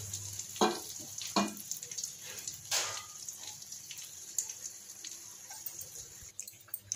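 Prawns frying in a pan with ginger garlic paste, a soft steady sizzle with a few louder bursts of stirring near the start, fairly quiet and without talk.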